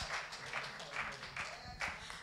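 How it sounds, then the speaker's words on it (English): A church congregation at a Sunday service claps in a steady rhythmic beat, fairly faint and roomy, with voices mixed in. "Let's give the Lord a clap offering."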